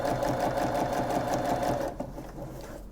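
Sewing machine stitching an invisible zipper onto a garment: a close, steady mechanical whir with a fast rhythmic needle beat that stops abruptly, leaving a few light clicks.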